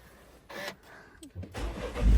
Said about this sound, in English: And let's get this car started.